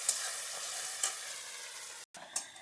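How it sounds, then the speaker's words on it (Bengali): Chopped onions fry in oil toward golden brown, giving a soft continuous sizzle close by, with a few light spatula clicks and a brief cut in the sound. "পেঁয়াজ কটা আমি বেশ ভালো করে একটু সোনালি কালার করে ভেজে নেব"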